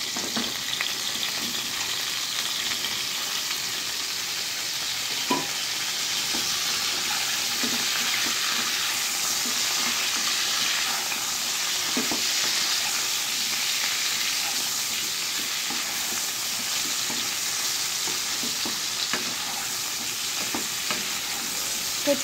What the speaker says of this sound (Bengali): মোটামুটি আমার আলুটা ভাজা হয়ে গেছে। এর উপর আমি কচুটাকে দিয়ে দেব।